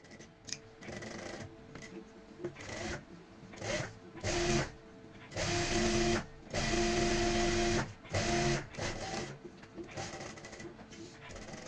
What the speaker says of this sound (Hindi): यहाँ से हम सिलाई की शुरुआत करेंगे नोक से